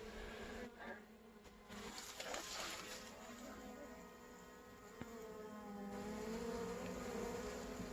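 Native Korean honeybees buzz steadily outdoors near a house eave, a continuous droning hum with faint background noise and no voices.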